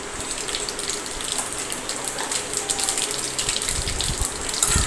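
Dry spices, including mustard seeds, cumin, peppercorns, stone flower and star anise, hit hot oil in a pan on a gas stove, producing a close, steady, hissing sizzle throughout with small crackling bursts.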